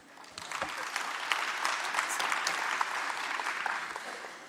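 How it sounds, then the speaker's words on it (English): Applause from a conference audience at a national transport event: a short burst of many hands clapping that builds quickly, holds steady, then starts to fade, heard at moderate volume with no talking. "Another round of applause for the MEC."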